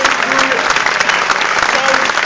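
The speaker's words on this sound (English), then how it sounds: "A big applause for Gusto." Audience applause at a conference talk, a steady dense wash of clapping from a crowd that fills the whole stretch at an even level.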